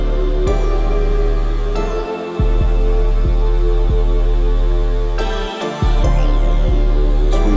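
Deep booming 808 bass hits pulse in a steady groove under a dense beat, loud and sustained, with brief drops where the low end cuts out.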